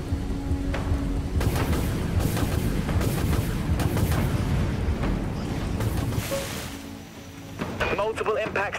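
Missiles launch from silos during a Dreadnought space battle in heavy, overlapping booming bursts with hissing roar. Busy combat noise fills the whole moment, and a voice is heard in it.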